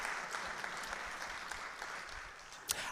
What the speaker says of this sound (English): Oh, yeah, you should clap to that.